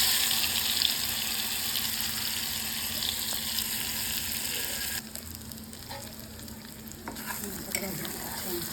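Ground masala hitting a hot pan with oil in a home kitchen, giving a steady, close, loud sizzle that fizzes throughout, dips a little partway, then crackles on with small clinks.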